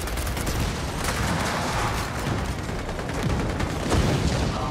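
Gunfire from Gears of War 4 during a village defense, a dense continuous barrage of shots and impacts, loud and unbroken, with no voices over it.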